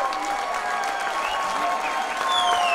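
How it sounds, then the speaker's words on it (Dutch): A concert audience gives sustained, dense applause with some cheering, loud and continuous throughout, while a voice speaks faintly beneath it. "Geef ze een enorm applaus."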